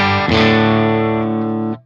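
Electric guitar through a Universal Audio amp simulator pedal set to a Celestion Gold speaker model, with one loud, distorted chord struck and left to ring for under two seconds before cutting off.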